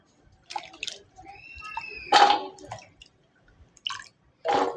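Water drips and splashes in short, scattered bursts as something is washed by hand, with quiet gaps between the wet spatters.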